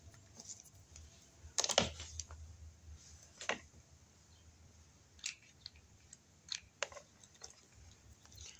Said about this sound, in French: je mets de la colle dessous. Et je viens tapoter.